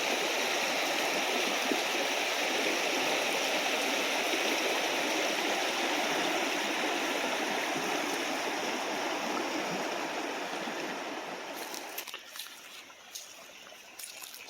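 A fast, flooded creek swollen by heavy rain rushes loudly and steadily nearby, a thick continuous roar of water that eases a little near the end.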